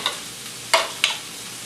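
Food finishing in a pan used for pork tenderloin, a low steady sizzle broken by two sharp, bright bursts of hissing spatter close by.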